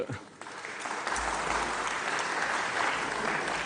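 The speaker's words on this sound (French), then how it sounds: "Il mérite absolument vos applaudissements." Applause fills the French Senate chamber, a sustained patter of many hands rising after a brief quiet start and holding steady at moderate volume from a distance.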